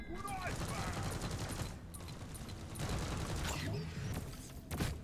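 Rapid bursts of gunfire in Deep Rock Galactic as players shoot at bugs, with dense overlapping shots and mechanical clatter, moderately loud and continuous with brief pauses.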